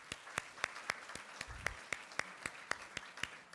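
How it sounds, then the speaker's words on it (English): A small conference audience gives sparse, evenly spaced handclaps, a thin and fairly quiet applause in a large room, with single distinct claps rather than a full ovation. "Another round of applause for Dave."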